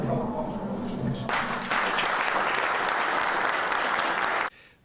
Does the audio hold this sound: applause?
yes